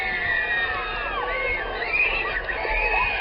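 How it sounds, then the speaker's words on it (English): A huge crowd of Beatles fans screams hysterically at Adelaide's Centennial Hall, a dense, sustained wall of shrill shrieks and yells with no break. "At Centennial Hall, the hysteria, screaming, and the crowd itself hits a new high."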